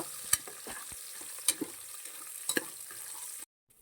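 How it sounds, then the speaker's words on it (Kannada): Soaked peas frying in a pan for masala kuska, a faint low sizzle broken by a few sharp spoon scrapes and clicks, with no voices. "ಬಟಾಣಿಗಳನ್ನ ಹಾಕೊಂಡು ಅದನ್ನು ಕೂಡ ಒಂದು ಸ್ವಲ್ಪ ಫ್ರೈ ಮಾಡ್ಕೋತಾ ಇದ್ದೀನಿ"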